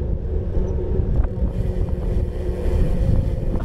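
Steady wind rushing and buffeting against the microphone while cycling, a low continuous roar with gusts, no voices.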